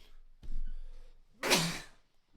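One sharp sneeze bursts out after a short inhaled breath, close and fairly quiet, alone with no talking.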